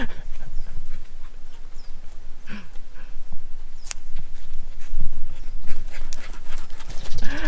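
A dog pants steadily and loudly up close on a breezy morning outdoors at a house-building site in the Philippines, with rustling and occasional thumps as it moves about playfully.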